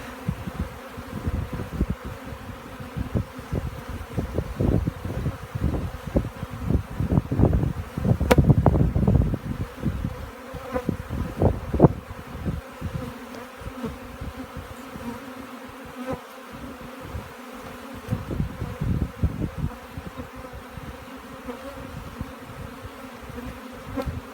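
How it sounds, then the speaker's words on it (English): Dense, close buzzing of many bees around a hive, constant and layered, with individual insects droning louder as they fly near, plus light wind noise. "Bees are always fascinating. They're always cool to watch."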